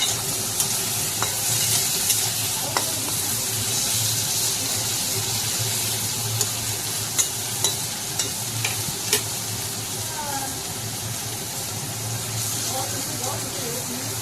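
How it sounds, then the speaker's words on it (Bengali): Prawns fry in a pan for an okra and prawn curry, giving a loud, steady sizzle that runs throughout, with a few sharp clicks of stirring and a faint voice in the background. "আর এখন চিংড়ি মাছগুলো ভেজে নিচ্ছি ভালোভাবে।"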